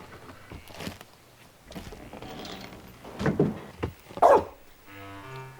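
A dog barks several times in short, separate bursts at moderate distance within a quiet scene from a Hollywood adventure comedy, the sharpest bark coming toward the end before a brief musical tone.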